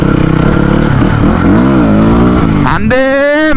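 A Mustang motorcycle revving loudly and close, the engine pitch rising and falling before a sharp climb at the end, with excited voices partly over it.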